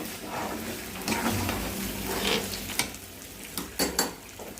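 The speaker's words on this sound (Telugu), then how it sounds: "మంచిగా ఇలా కలుపుకుండా ఉంటే మీకు ఫ్రై అవుతుంది" Ginger garlic paste stirred as it fries in a pan for chicken liver fry, a steady close sizzle broken by scraping spoon strokes and a few sharp clinks against the metal.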